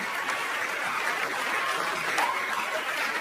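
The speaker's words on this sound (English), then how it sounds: "Mark Norman, please clap for him" Stand-up comedy crowd gives comedian Mark Norman a sustained, even round of applause, a dense wash of clapping from a large room with faint chuckles.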